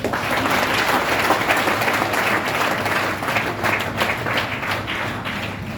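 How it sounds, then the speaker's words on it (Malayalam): Sustained audience applause at a salute event honouring LP Jayachandran and VS Reji, dense clapping from a crowd holding steady and loud throughout. "നല്ലൊരു ക്ലാപ്പ് കൊടുക്കട്ടെ"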